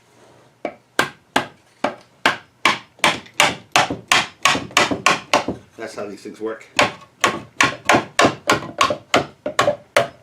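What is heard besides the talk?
tapping a wooden spice box part with a hammer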